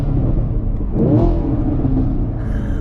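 A Chevrolet Camaro LT1 V8 engine starts, the crank catching into a loud, steady low rumble that rises briefly to a rev near the one-second mark, then settles into a continuous idle.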